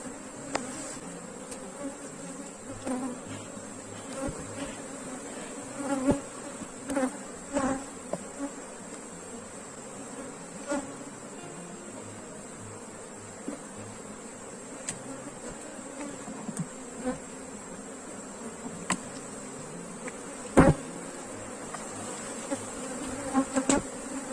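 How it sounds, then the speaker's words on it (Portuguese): A populous honeybee swarm during a hive split gives a steady, dense buzz that hums on throughout, with occasional closer bees zipping past louder. "Gente, que enxame populoso."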